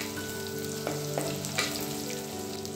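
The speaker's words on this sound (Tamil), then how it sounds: "நல்லா வதக்கி விட்டுக்கலாம்." Green chilies and dried red chilies sautéing in a pan, likely a clay pot, with a steady close sizzle and a few soft stirring scrapes.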